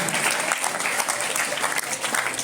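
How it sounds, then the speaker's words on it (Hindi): Schoolchildren at a Jawahar Navodaya Vidyalaya village assembly event in West Singhbhum clap loudly together to welcome the chief guest, a close, continuous burst of many small hands. "सभी बच्चों से निवेदन है कि वे जोरदार तालियों के साथ हमारे मुख्य अतिथि महोदय का स्वागत एवं अभिनंदन करें।"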